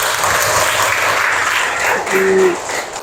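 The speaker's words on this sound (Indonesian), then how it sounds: "tepuk tangan dulu buat kalian." A classroom full of students clapping, dense and steady applause throughout, with a brief voice rising near the end.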